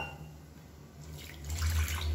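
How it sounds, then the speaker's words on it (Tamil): Water runs into a pan for kolukattai dough, starting soft and growing louder and fuller toward the end. "இன்னும் கொஞ்சம் எக்ஸ்ட்ரா தண்ணி சேர்த்துக்கலாம்."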